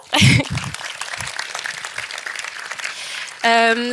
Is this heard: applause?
yes